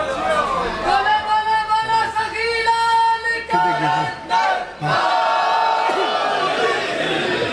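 A crowd at a Shia majlis in a Pirowal imambargah during Ramzan loudly chants religious slogans in unison, with full-throated call-and-response shouts rising and falling, close and sustained throughout.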